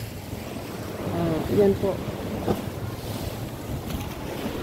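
Strong sea waves surge against a seawall at high tide, with gusty wind buffeting the microphone and a steady roar of surf. A person speaks briefly over the noise.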